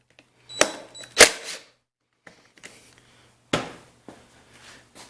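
Small tool clicks and scraping as T25 Torx screws are backed out on a Husqvarna 150BT backpack blower carburetor, a few sharp ratcheting bursts and rubs separated by quiet gaps.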